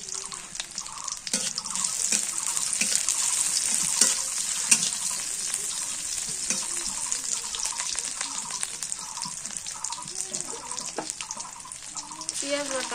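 Spice paste fries in a pan with a continuous close sizzle, while scraping stirs and small clinks recur throughout and faint background voices come and go.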